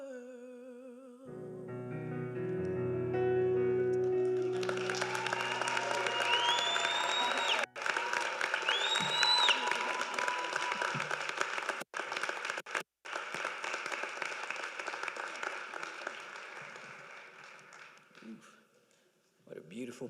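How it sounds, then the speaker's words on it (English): Applause rises for performers at a university inauguration ceremony, following a musical number that is still fading at the start. Broad crowd clapping continues with some cheering and brief pauses, dying away near the end. "Another round of applause for our performers."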